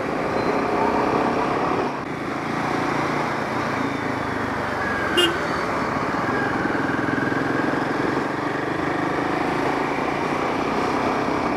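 Royal Enfield Himalayan 450 motorcycle cruising on a road, a steady broadband engine and wind roar with smooth, barely noticeable gear changes and one brief dip, continuous and close throughout.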